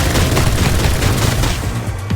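Loud, dense burst of game gunfire from Reverse: 1999, with a heavy booming shot that rings out into a rolling, sustained rumble before fading slightly at the end.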